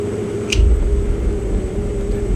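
A Pilatus PC-12 turboprop in X-Plane 11 accelerates for takeoff, its steady low engine drone and hum running throughout with a soft thump near the start.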